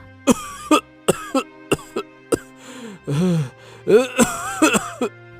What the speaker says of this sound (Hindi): इतना कहकर बूढ़ा फिर से खांसने लगा।